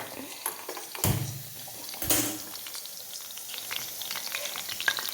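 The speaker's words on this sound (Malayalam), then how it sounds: "ഇനി എണ്ണ ഒഴിച്ചു കടുകിട്ടു ഉള്ളി ഇട്ടു കറിവേപ്പിലയും വിട്ടു" Mustard seeds, onion and curry leaves sizzle in hot oil in a cheenachatti pan on the stove for a taro curry with lentils, with two sharp spluttering pops early on over a steady close crackle.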